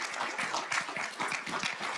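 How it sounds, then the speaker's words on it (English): Audience applause for Shawnee Tribe Chief Ben Barnes at a public gathering, a steady burst of many hands clapping that fills the whole moment without any talk. "How about a round of applause for Chief Ben Barnes?"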